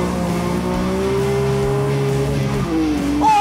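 A BMW M3 drift car engine revs loudly and holds a high, steady whine before dropping and climbing again, close and continuous with no talking.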